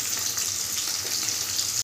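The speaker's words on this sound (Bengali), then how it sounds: "এইবার এই দিকটাও একটু ভালো করে ভাজা হয়ে গেলে" Hilsa fish pieces fry in a pan with a steady, hissing sizzle of hot oil, continuous and fairly close, with no talking.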